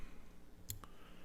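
A single quick snip of small scissors cutting fly-tying thread while tying a pheasant tail jig, one faint crisp click followed by a softer tick in an otherwise quiet room.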